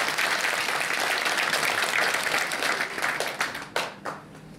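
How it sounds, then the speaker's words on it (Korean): Audience at an inauguration ceremony gives sustained, dense applause that thins out into a few scattered, louder individual claps as it fades at the end. "다시 한번 큰 박수 부탁드리겠습니다."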